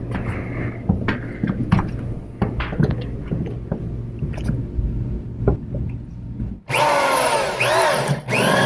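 A power drill whirs loudly and steadily through a wall near the end, during a security camera installation, after a stretch of quieter clattering and tapping work noises.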